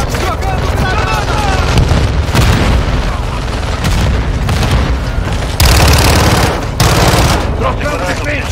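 Grenade blast amid a loud, dense firefight in Call of Duty Warzone 2.0 multiplayer: heavy booming bursts and rapid gunfire run continuously, with one sharp, louder explosion near the end.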